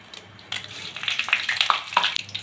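Whole cumin, garam masala, a dried chilli split in two and chopped bay leaf tempering in hot fat, giving a steady close sizzle with scattered crackles and pops as the spices are stirred around.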